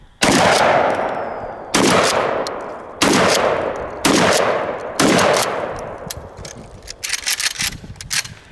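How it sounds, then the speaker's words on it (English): A Blackhawk 870 shotgun firing number six shot target shells and goose shells, with five loud, close blasts spaced about a second apart, each ringing out, followed by scattered metallic clatter and handling clicks. "We're shooting just crappy number six shot target shells, and then I threw a couple goose shells in there."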